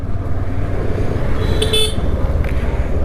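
Traffic on a busy road ridden through on a Honda SP 125 motorcycle, with a horn tooting briefly in the middle over a steady low engine and road rumble.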